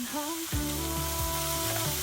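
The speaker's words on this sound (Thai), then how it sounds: "นำหมูสับเนี่ยลงไปผัดในกระทะ ใช้ไฟเบาๆนะครับ แล้วก็ ผัดแห้งๆเนี่ยครับ" Minced pork stir-fries dry over low heat in a pan for Thai khua kling, a continuous close sizzle with tonal sounds sliding over it.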